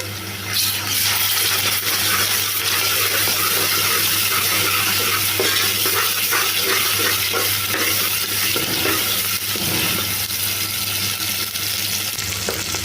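Ginger garlic paste frying in a pan with onion pieces, a loud steady sizzle throughout with scraping stirring strokes and light clinks of a spoon against the pan.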